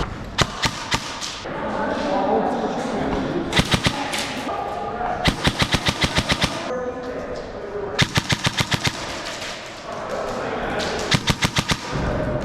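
Airsoft guns firing in a speedsoft arena, with rapid bursts of sharp snapping shots in quick strings, some single shots between them, close and loud over a busy background of voices and movement.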